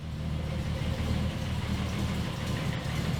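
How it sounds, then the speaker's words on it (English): A Toyota 1FZ-FE engine idles in an 80 series, a steady low rumble with a faint rhythmic knock, holding constant and close up, with nobody speaking. "So, but it doesn't sound bad. Like it's idling okay."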